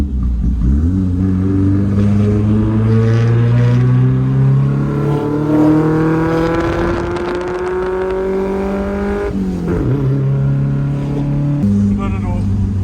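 Modified Datsun 1200 ute with no ABS driven hard, its engine revving up and down in rising and falling sweeps, with an abrupt drop under hard braking partway through and a voice talking over it.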